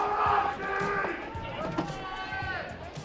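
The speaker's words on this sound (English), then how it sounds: "A little bit of cheering for Miss Roxy out there in the crowd." Crowd cheering and shouting at a roller derby bout, a lively murmur of voices under an announcer's talk throughout.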